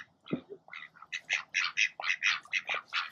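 A flock of ducks quacks and squawks in quick, repeated bursts as they hurry in to feed outdoors, the calls close, loud and overlapping in a steady chattering rhythm.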